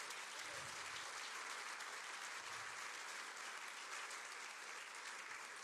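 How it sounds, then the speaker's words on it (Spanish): A church congregation applauds steadily throughout, a dense, even wash of clapping at a distant, uniform level during a pastor's sermon, with no voices rising above it. "Yo le daría un aplauso al Señor por eso."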